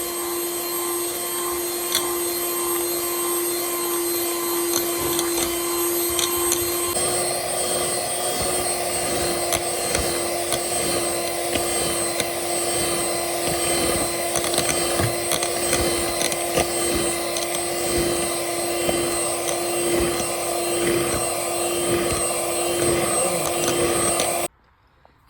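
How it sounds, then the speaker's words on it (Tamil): Electric hand mixer beating eggs into avocado cookie batter, a steady loud motor whine running without pause, its pitch stepping up partway through, then cutting off at the end. "இதையும் சேர்த்து நல்லா பீட் பண்ணிக்கிறேன்."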